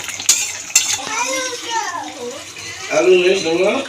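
A spoon stirs prawn malai curry in a pot, giving a couple of sharp metallic knocks and soft scraping, mostly under someone talking.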